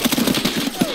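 A short, rapid burst of automatic gunfire in the video game Escape From Tarkov, aimed at the head: several quick, evenly spaced shots packed into under a second, close and fairly loud.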